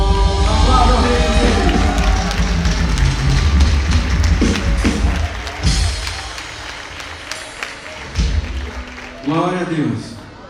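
Baptist church congregation at a Sunday service applauds in a dense, loud wash of clapping and cheers that gradually thins out, with voices and a singing or speaking voice rising near the end.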